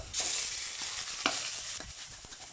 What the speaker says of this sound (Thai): ก็เอาหมูลงมาผัด